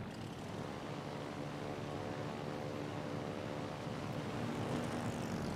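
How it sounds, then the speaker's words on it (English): Propeller torpedo bombers drone steadily overhead in the naval combat game World of Warships: Legends, a continuous engine hum with faint tonal bands holding at even loudness throughout. "obviously these are torpedo bombers"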